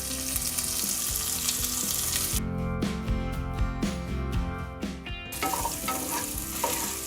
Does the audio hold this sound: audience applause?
no